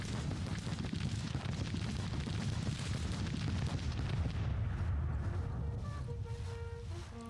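An enemy artillery battery firing in a Civil War strategy game, a steady rumbling roar of distant cannon fire that rolls on without clear breaks and fades slightly toward the end.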